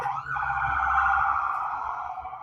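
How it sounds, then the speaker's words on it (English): A steady wailing siren sounds close by, holding one loud tone throughout with no one speaking. "Is that sirens on your end?"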